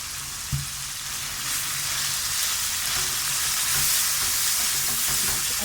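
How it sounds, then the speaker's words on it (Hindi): Chopped tomatoes go into frying beef keema in a karahi: a single thud, then a constant hissing sizzle with stirring, close and even, swelling slightly as it continues. "तो अब हम इसमें 3 से 4 अदद टमाटर डालते हैं, चॉप किए हुए।"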